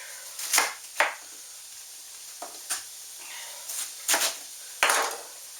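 A knife slices thinly through a quarter of cored cabbage on a cutting board, making about seven crisp, close chops at uneven intervals over a quiet background.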